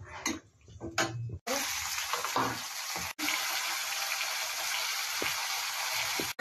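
Cloves, cardamom and cinnamon fry in hot ghee, giving a steady, close hiss that starts abruptly after a short quiet stretch, breaks off briefly and then resumes, with faint clatter early on.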